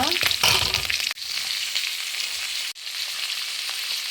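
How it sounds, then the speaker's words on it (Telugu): Mustard seeds, chana dal, cumin and curry leaves frying in hot oil for a village-style okra curry: a loud, close, continuous sizzle with a busy crackling start and two brief cuts in the sound. "ఆవాలు శనగపప్పు కొన్ని జీలకర్ర ఇంకా కరివేపాకు ఇది కొంచెం బాగా వేగిన తర్వాత"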